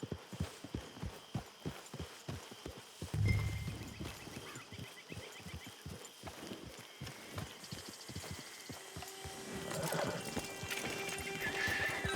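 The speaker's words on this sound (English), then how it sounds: "Get your horse." Steady clip-clop of hooves walking at an even pace, with a horse whinnying partway through, over a low ambient soundscape in Red Dead Online.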